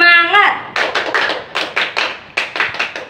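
A group of people clapping a rhythmic spirit clap, crisp patterned hand claps in quick bursts that follow a short spoken call.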